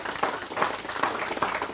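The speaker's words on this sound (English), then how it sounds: "would you give the 3 finalists a big round of applause?" An indoor crowd at an agricultural awards event applauds the three finalists, a steady, moderately loud patter of many hands clapping.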